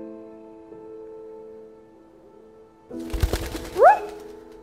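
A bird call bursts out suddenly inside The Iron Giant Lost VR game, a short rising whistle-like cry with a flutter of movement. It cuts in loud and close after a stretch of quiet, steady music.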